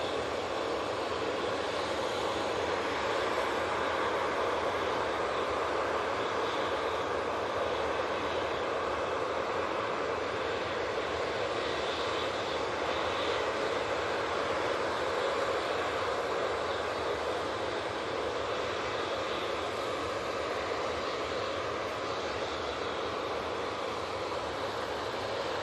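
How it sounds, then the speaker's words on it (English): GE90 jet engines at Manchester Airport give off a steady, broad roar, constant and fairly faint, with no voices. "we'll be having those G90s spooling up right in front of us"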